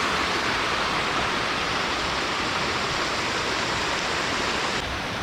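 River water pours over the drop of Granya Falls in Mount Granya State Park, a loud, steady broadband rush with no pauses and no voices.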